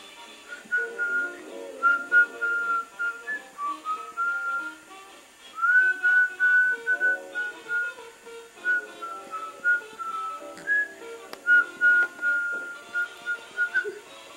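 A person whistles a wavering melody of short phrases with brief gaps, clear and fairly close, for about fourteen seconds with no talk.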